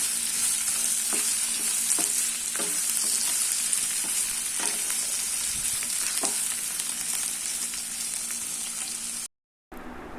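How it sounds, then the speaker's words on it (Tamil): Tomatoes for a garlic tomato chutney sauté in a hot pan, a dense continuous sizzle with occasional stirring scrapes, loud and close, ending with a brief silent gap. "அப்போ தக்காளி நல்லா வதங்கிட்டும்."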